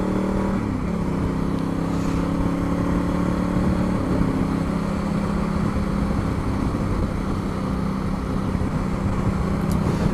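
A Honda CRF1000 Africa Twin motorcycle rides along twisty country roads, its engine droning steadily with a brief shift in pitch early on, and wind rushing loudly throughout.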